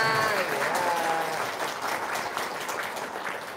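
An audience applauds at an indoor gathering, a dense, sustained wash of many hands clapping, fairly loud and steady throughout, with a voice briefly audible near the start.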